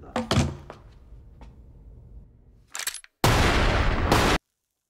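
A sharp thunk followed by quieter rustling, then a loud burst and a sustained blast of noise that cuts off abruptly into silence.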